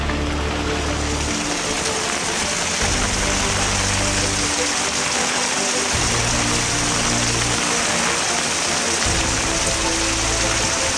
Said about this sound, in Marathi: पाणी वाहत आहे त्याच्यामुळे हा ओढा क्रॉस करणं कठीणच आहे.